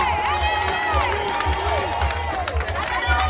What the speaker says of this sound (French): Allez, on continue à les applaudir.